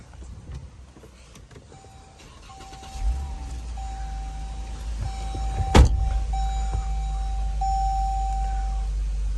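A car with a 3.6 liter V6 starts up: a low rumble swells partway through and settles into a steady idle. A thin whining tone runs alongside it, and a single sharp knock comes near the end, with no voices.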